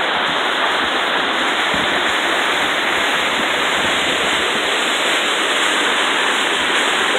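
Kaaterskill Falls pours in a steady, loud roar of rushing water. It is broad and unbroken from start to finish, with no voices over it.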